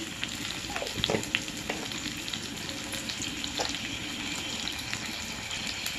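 Carrot pieces with ginger paste fry in hot oil with a steady, soft sizzle and occasional crackles and stirring clinks, fairly quiet and continuous.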